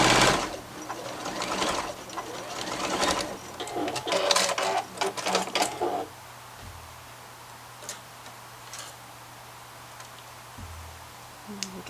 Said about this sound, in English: stitch this right sides together all the way through the length